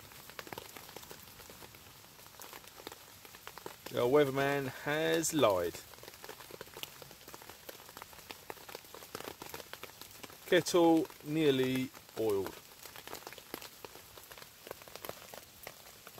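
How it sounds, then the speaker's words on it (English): Steady patter of rain drumming on a tarp overhead while wild camping, continuous and close, with someone talking briefly twice over it. "It started raining again"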